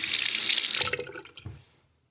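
Water gushes from a newly installed bathroom faucet into the sink, loud and close at first, then cut off so it trickles and drips away into silence.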